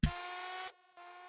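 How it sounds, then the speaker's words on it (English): A bright, buzzy synth riser with a robotic vocoder tone sustains briefly, cuts off, then a fainter delayed echo repeats it. "we're taking this riser from Xenology that sounds like this."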